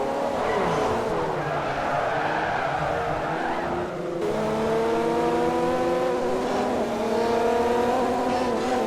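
Race cars lapping Suzuka circuit in Forza Motorsport 4, engines revving and shifting through rising and falling pitches with tire squeal, loud and continuous, mixed with faint background talk.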